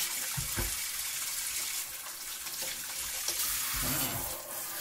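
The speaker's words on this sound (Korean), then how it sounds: "샤워기처럼 이렇게 물 나오게 바꿔서 잘 헹궈주고요" A kitchen faucet in shower-spray mode runs steadily, rinsing detergent off dishes in a sink. The hiss is loud and continuous, with small splashes and clatters from the dishes now and then.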